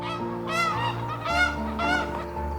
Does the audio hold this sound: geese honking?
yes